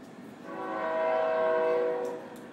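Passing train sounding a long, steady horn blast that swells and fades over a couple of seconds, with rail rumble beneath.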